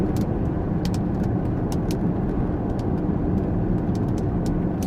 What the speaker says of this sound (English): It's driving perfect. I'm now 50 miles per hour. No, yeah, 60 miles per hour, steady.